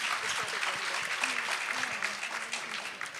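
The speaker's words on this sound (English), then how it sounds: "let's all give a round of applause for both of them" Audience applause at an American Association of Physicians of Indian Origin convention, a steady wash of many hands clapping throughout, fairly close and even, with faint voices mixed beneath.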